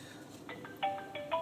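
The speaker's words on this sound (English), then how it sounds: "someone is calling me." An incoming-call ringtone plays faintly through the cabin of an Audi A3 fitted with a Road Emperor A372GTTS head unit, repeating short electronic tones that grow a little louder.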